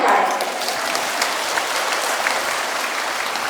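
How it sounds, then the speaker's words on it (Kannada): Loud, dense applause from a large audience at a women's religious gathering, a steady wash of many hands clapping together with no gaps, close and sustained throughout. "ಜೋರಾಗಿ ಚಪ್ಪಾಳೆ"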